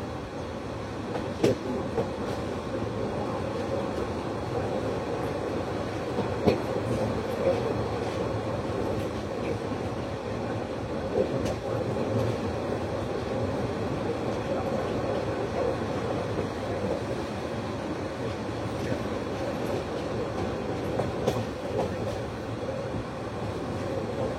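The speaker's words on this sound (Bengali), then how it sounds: "আর কুড়িগ্রাম অভিমুখী 797 কুড়িগ্রাম এক্সপ্রেস ট্রেনটি এখন সেতু পশ্চিম রেলওয়ে স্টেশন থ্রুপাস যাবে।" The 797 Kurigram Express runs through Setu Paschim railway station, heard from on board as a continuous rumbling roar with wheel clatter and occasional sharp clicks. The sound stays steady and fairly loud throughout.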